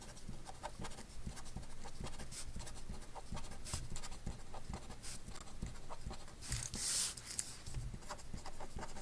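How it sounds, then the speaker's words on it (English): Hand writing of numbers on a surface while working through phone-number probability examples, a close, faint run of scratchy pen or marker strokes in short bursts, with no speech. "I'll just write them out"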